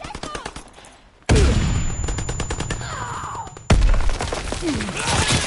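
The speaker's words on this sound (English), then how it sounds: "Taking heavy fire." Heavy gunfire in the World War II shooter Call of Duty WWII, dense rattling shots with sharp loud bursts hitting abruptly, close and intense, with faint voices mixed in.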